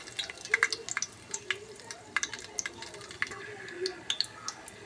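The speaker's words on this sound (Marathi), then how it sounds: "तेल गरम झालं आपण आता त्याच्यात सगळे खडे मसाले टाकू" Whole spices crackling in hot oil for a vegetable pulao, sharp spitting pops and crackles scattered over a quiet sizzle, close by, with a low voice faintly in the background.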